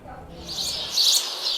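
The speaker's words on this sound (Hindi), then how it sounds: "ओ गौरैया, नन्ही गौरैया, जिस आंगन में तुम्हारी चहलकदमी होती थी, जो आंगन तुम्हारी चहचहाहट से गुलजार रहते थे" House sparrows chirping, a dense cluster of high, rapid tweets that swells in the middle, close-sounding and brief.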